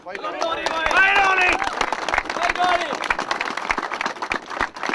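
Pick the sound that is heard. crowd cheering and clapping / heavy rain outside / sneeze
crowd cheering and clapping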